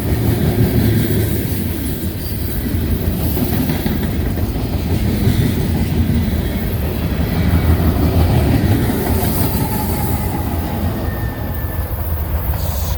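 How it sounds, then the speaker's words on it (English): A freight train with a distributed-power (DPU) locomotive rolls steadily past, close and loud, with continuous rumbling wheels, clattering cars and faint squeals throughout, no voices. "DPU coming through on the train"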